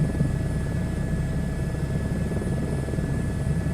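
Helicopter flying in a flight simulator video game, a steady continuous rotor and engine drone with a fixed tonal whine, even in level throughout with no talking.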